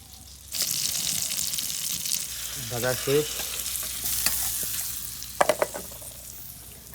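Pieces of hilsa fish coated with turmeric, chili and salt start frying in hot oil with a sudden loud sizzle that settles into a steady crackle, broken by a few sharp clinks near the end.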